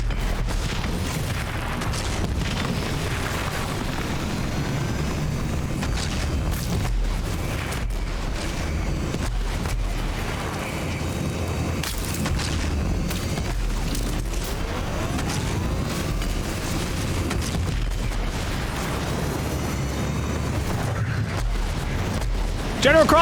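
Deep booms and rumbling blasts from explosions in the video game Rage 2, layered continuously over dense game action without a break.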